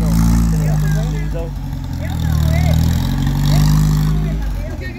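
Car engine fitted with an aftermarket exhaust running at a car show, a loud low burble that swells and eases in slow waves, close by, with voices talking over it.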